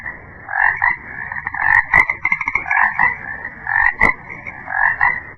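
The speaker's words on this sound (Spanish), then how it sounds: "rana" A frog croaks steadily in loud, rapid rattling bursts that repeat across the whole stretch, close and clear with no voices, the kind of call used in a children's animal sounds learning game.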